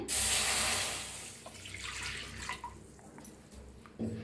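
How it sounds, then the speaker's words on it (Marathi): Water pours into a hot pan on a gas stove with a loud splashing rush at first that tapers into softer trickles and drips, then a brief final splash. "पॅन आपला चांगला गरम झालाय, त्याच्यात वतूया आपण पाणी"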